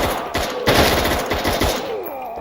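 Unsuppressed rifle gunfire in the tactical shooter Door Kickers 2, a rapid stream of loud, close bursts with short gaps, followed by a quieter tail.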